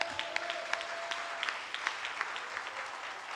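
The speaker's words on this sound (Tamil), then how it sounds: "கைத்தட்டங்கம்மா." A church congregation claps during a Sunday service, a steady patter of many hands at moderate distance with no voices over it.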